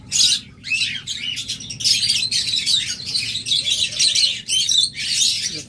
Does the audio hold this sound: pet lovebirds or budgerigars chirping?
yes